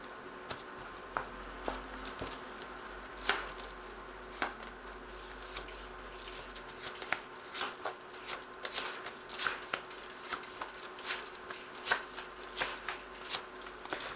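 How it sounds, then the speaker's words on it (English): A tarot deck of the Sweet Twilight cards being shuffled up close, with soft repeated riffling and slapping bursts at an uneven rhythm, fairly quiet, with no talking over it. "I'm going to draw some cards from the Tarot of the Sweet Twilight"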